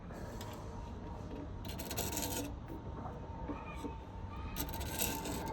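A hand tool rasps at a soft brass part on a classic Fiat 500 gear selector, quiet scraping strokes repeating back and forth in short bursts.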